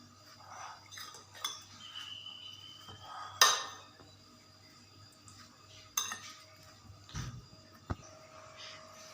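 Shredded chicken, finely chopped cabbage and tomatoes are stirred together in a bowl in a home kitchen, giving soft scraping and a few sharp clinks of a utensil against the dish, with quiet pauses between strokes.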